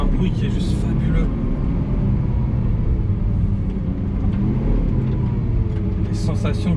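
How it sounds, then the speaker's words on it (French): A Lamborghini Aventador SVJ with a naturally aspirated V12 rumbles loudly and continuously close by, a deep steady engine roar with slight swells, with someone speaking over it. "C'est ça que j'adore avec leur V12 atmosphérique."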